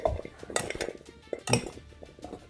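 Utensils clink and scrape against a dish while garlic and seasoning are mixed onto a Thanksgiving turkey, a few close clattering strokes in short bursts with no talking.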